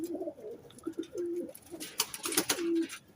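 Teddy pigeons coo in a loft, several low rolling coos close by with rustling and wing flutters mixed in, no talk over them.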